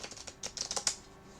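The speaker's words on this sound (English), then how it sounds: "I hear you shuffling." A deck of playing cards is shuffled in a quick flurry of crisp riffling clicks, fairly faint and close, ending in quiet.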